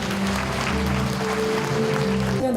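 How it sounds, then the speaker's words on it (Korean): A hall audience at a Korean book launch event claps steadily for the author on stage, a continuous wash of applause under a sustained musical tone from the sound system. "여러분 뜨거운 박수로 응원해 주시면 대단히 고맙겠습니다."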